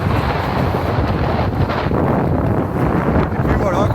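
Headwind batters a cyclist's microphone on a long-distance ride across France, a loud, continuous low roar and buffeting that swells and dips throughout.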